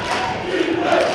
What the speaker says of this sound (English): Highlander crowd getting very loud here